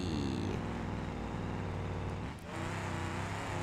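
Simulated vehicle engine droning steadily on a bumpy dirt road in BeamNG Drive, a loud continuous motor with rattling texture and a brief dip near the end, no talking.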